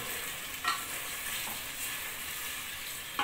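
Fish is stirred into frying ofada sauce, a continuous soft sizzle with two brief spoon scrapes, close and fairly quiet.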